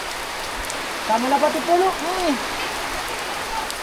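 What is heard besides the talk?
rain falling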